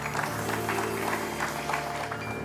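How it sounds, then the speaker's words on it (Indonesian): An audience claps in a lively indoor show setting, a steady mid-level patter of applause lasting a couple of seconds over a faint background hum. "Tepuk tangan dari penonton akan membangunkan kamu."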